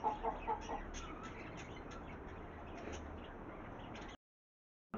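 A hen clucks a few times near the start, then soft bird chatter and background rustle continue before cutting to silence.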